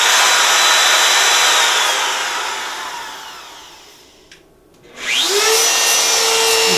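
A compact trim router, a Makita RT0701C or Dewalt DWP611, whines at high speed, then spins down nearly to silence and quickly revs back up to a steady, loud, high-pitched whir.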